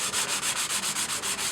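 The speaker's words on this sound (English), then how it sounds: "I'm going to take my 150 grit sandpaper" Hand sanding of a floor repair with 150 grit sandpaper, a close, steady back-and-forth scratching rasp in about nine even strokes, with no voices.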